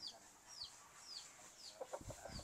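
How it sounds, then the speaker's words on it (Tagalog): Rhode Island Red chickens at a poultry production farm, with several short clucks and chirps recurring at a steady pace, soft and fairly close, followed by a few sharper clucks near the end. "Andito ako ngayon sa ating Rhode Island Red production. Meron tayong mga bagong manok"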